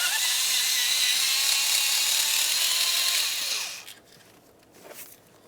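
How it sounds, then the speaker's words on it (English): A power tool whines steadily while backing out T25 Torx screws from a throttle position sensor on a 1994-2002 Dodge Ram 2500, then stops, leaving quiet handling noises. "remove each of your two T25 Torx screws that hold this in place"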